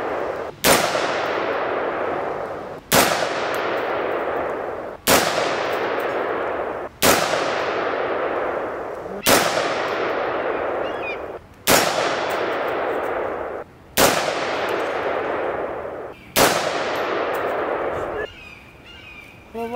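A Bear Creek Arsenal rifle in 6mm ARC fires Hornady match ammunition: eight loud, sharp shots at an even pace, about two seconds apart, each followed by a ringing echo that dies away before the next.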